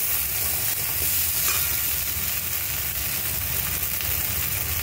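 Boiled whole vegetables with fennel and a little ginger paste are stirred in a pan for the traditional Sheetala Shashthi dish, giving a steady close scraping and soft sizzle with no voices.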